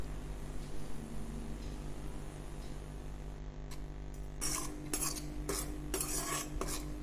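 Rice flour dry-roasted in a kadai, its stirring heard as quiet scraping at first and then as a run of sharper, rhythmic utensil strokes against the metal pan over a steady low hum.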